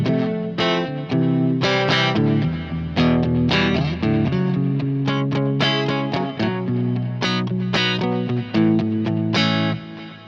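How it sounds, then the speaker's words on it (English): An electric guitar through a Kemper Profiler plays a steady run of bright, ringing notes and chords in a clean, acoustic-like tone, close and continuous with no voices. "to have this acoustic guitar-like tone"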